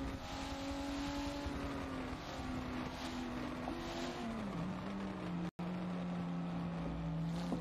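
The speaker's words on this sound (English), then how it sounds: "we've got the last few cars coming into the finish line" Race cars in a sim racing game at Sebring, engines droning steadily with a sustained pitch that dips and recovers as they come toward the finish line, loud and continuous with a brief dropout midway.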